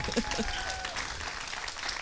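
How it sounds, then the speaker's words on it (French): A television studio audience applauds during a Christian music program, a steady, moderately loud spread of clapping with a brief sung or spoken tone at the start. "on peut applaudir pour ce Dieu-là"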